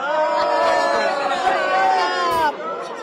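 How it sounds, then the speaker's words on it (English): Republicans at a press conference boo a reporter, a loud, dense crowd sound of massed voices that carries on for a few seconds and drops off near the end. "That's all the Republicans at the press conference booing down the reporter"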